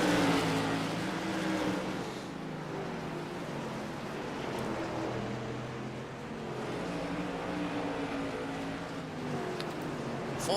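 Modified race cars racing on a short track, engines droning and whining in overlapping layers as cars pass, loud and continuous with changing pitch.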